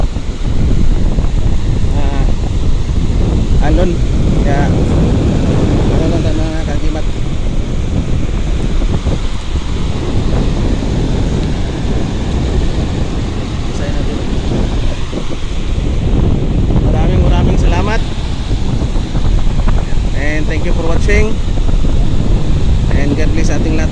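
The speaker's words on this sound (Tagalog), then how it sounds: "lakas yung hangin" Loud, steady wind roaring and buffeting the microphone throughout, with a continuous rushing noise and no letup.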